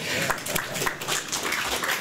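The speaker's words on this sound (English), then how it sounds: "I think she deserves a round of applause for that" An audience at a business talk on enterprise mobility gives a short burst of applause, a dense patter of many hands clapping at close range for about two seconds.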